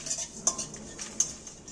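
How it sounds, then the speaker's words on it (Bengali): Cumin seeds being lightly dry-roasted in a pan for raw mango pickle, with a utensil scraping and tapping against the metal in quick, faint clinks and scrapes, no talking. "জিরেটা এর সাথে একটু ভেজে নেব"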